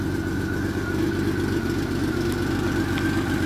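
A 1997 Honda Valkyrie SC34 motorcycle fitted with a Supertrapp exhaust idles steadily nearby, an even low rumble with a faint whine running throughout and no speech over it.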